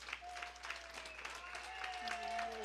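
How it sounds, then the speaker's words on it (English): A comedy show crowd claps during a Chicago taping, scattered applause heard faintly and at some distance, with voices talking over it and a few sustained tones in the background. "give a round of applause"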